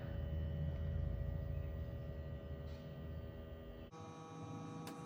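A Haier 1.6 ton heavy duty split air conditioner in self-clean mode hums steadily, then its sound changes abruptly partway through to a different tonal whir, with a faint short beep near the end; no talking.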